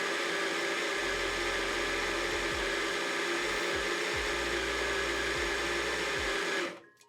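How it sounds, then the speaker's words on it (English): A Baratza Sette coffee grinder grinds beans straight down into a portafilter, a loud, steady mechanical whir with a low droning motor tone that cuts off abruptly at the end. "it goes through, grinds, and comes out in a vertical path compared to other grinders that have a different chute"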